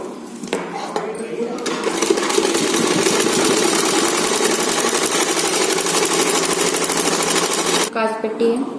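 A sewing machine stitches a blouse lining in a fast, steady mechanical whir lasting several seconds, close and loud, with faint handling clicks before and after.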